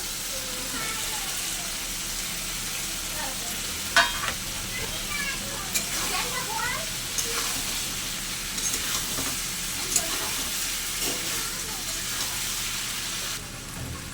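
Fried jackfruit and potato pieces go into a hot, oil-rich spice paste in a pan, giving a continuous close sizzle with occasional stirring knocks and scrapes.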